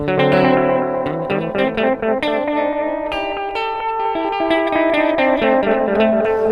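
Distorted electric guitar notes through an Electro-Harmonix Tone Tattoo delay ring out with audible repeating echoes blended evenly against the dry signal, half wet and half dry, dense and sustained.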